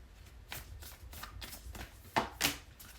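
Oracle cards are shuffled by hand in a quiet room, a run of soft riffling bursts with two sharper, louder snaps near the end, close up and with no one talking.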